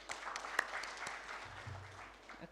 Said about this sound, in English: Let's give a round of applause to them.